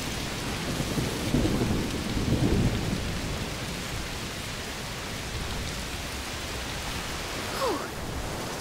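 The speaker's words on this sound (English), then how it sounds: "Must be a heat storm." Thunderstorm with rain in the video game A Plague Tale: Requiem: steady hissing downpour throughout, with a low rolling thunder swell near the start and a fainter rumble toward the end, no voices.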